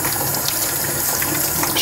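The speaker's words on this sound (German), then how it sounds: "die Brühgruppe reinigen wir jetzt einfach nur mit kaltem Wasser" Cold water rinses the brew group of a DeLonghi cappuccino machine, a continuous close splashing and running hiss for under two seconds, with no talking.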